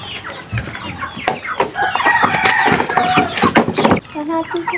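Rhode Island Red chickens cluck and a rooster crows nearby, loud overlapping calls with people talking in the background.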